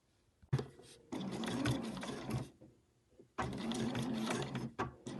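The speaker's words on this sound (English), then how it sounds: "Let's go and sew them." A sewing machine stitching the ties of an overlocker cover runs in two long, loud bursts of rapid mechanical whirring, separated by brief pauses with a few short clicks.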